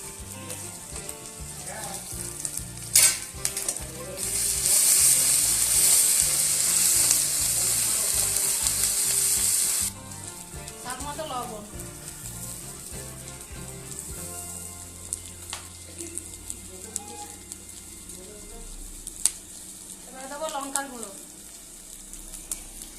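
Fish fries in a pan with ginger, garlic and green chilli. A steady, moderate sizzle swells louder partway through, then eases into quieter crackling over a low background hum, with occasional stirring clatter and no talking.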